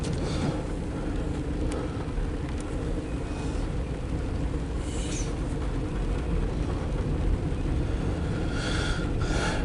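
A CSX Q217 empty autorack freight train rolls past in a steady, loud broadband rumble with faint wheel clatter and occasional brief squeals, continuous for the whole stretch without speech.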